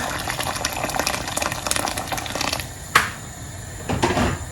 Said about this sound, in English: I'll go ahead and add water. I'm using water from the kettle.